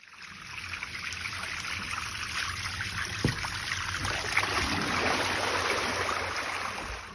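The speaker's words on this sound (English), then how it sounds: "water gushing from homes in the middle of the night" Water from a large burst main gushes and rushes steadily through a London residential street at night, a continuous broad wash with one brief thud partway through, no voices.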